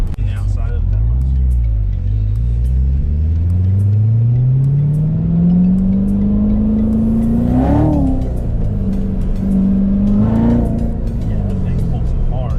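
A fast performance car's engine revs and pulls hard, pitch climbing steadily through a long acceleration, then briefly shifting and rising again, loud and close from inside the cabin while someone talks over it.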